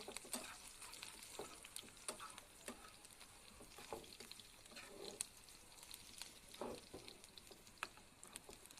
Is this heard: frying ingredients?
yes